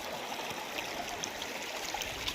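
Water of a clear stream flows and trickles steadily at Rani Jhariya waterfall in Korba, Chhattisgarh: a continuous, fairly soft rushing hiss with small gurgles, no voices.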